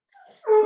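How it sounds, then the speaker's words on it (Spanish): A small pet dog gives a short, high, whiny yip that swells and ends abruptly, heard up close with no talk. "Perdón si se escucha aquí mi perrito ladrando."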